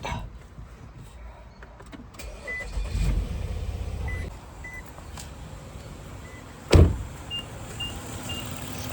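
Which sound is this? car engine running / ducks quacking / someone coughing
car engine running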